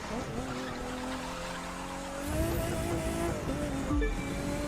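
Car braking hard with tires skidding in The Crew 2 racing game, a continuous engine drone under rising squeal, with a louder screech near the end.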